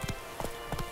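The horse Roach's hooves clip-clop in The Witcher 3, a few soft paired thuds at an easy, uneven pace. The sound is fairly quiet and close.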